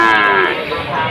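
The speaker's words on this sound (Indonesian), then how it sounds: "suasana pasar sapi Tuban hari ini" A single loud, close cow moo rings out, a low drawn-out bellow with a busy crowd faintly behind at a cattle market in Tuban, East Java.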